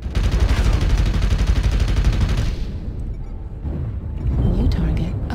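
Rapid heavy bursts of cannon fire from twin Ultra AC-20 autocannons mounted on a Jenner light mech in MechWarrior Online, dense pounding booms for a few seconds, then quieter impacts and rumbling, with a synthetic announcer voice speaking.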